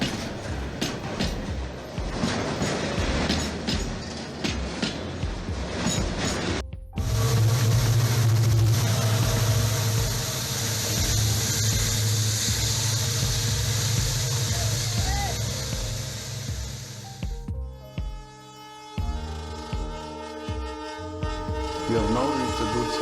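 A train passing very close along a narrow railway track on the Dudhsagar route, a loud roaring rumble of wagons that swells, holds steady, then cuts off, with a horn blast and other track noise before and after.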